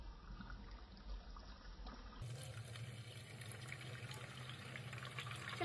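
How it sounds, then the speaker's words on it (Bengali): Carrots being washed under running water: a quiet, steady stream from a tap splashes continuously in a kitchen, getting a little fuller partway through. "চলো গাজরটা ধুয়ে নিই এবার।"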